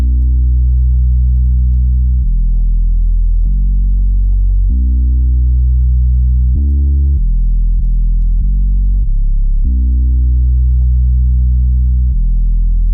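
A long sustained bass line from an FL Studio 2000s R&B beat, deep held notes shifting pitch every second or two, loud and continuous throughout with faint upper clicks, no voices.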